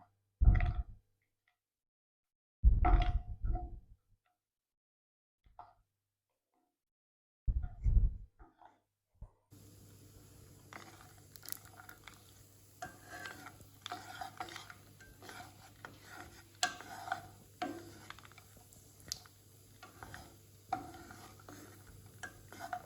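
Vermicelli frying in a pan and stirred with a spatula, heard first as a few scraping strokes against near silence, then as a steady soft sizzle with frequent light scrapes and taps, close and quiet.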